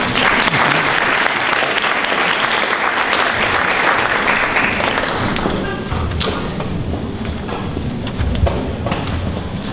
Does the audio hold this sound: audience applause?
yes